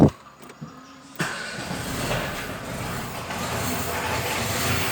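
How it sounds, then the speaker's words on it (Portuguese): A 2003 Renault Clio 16V engine running roughly with an abnormal noise from a broken part letting in false air. After a quiet second, a steady close mechanical drone starts and continues without pause. "Mas olha o barulho que ele tá fazendo"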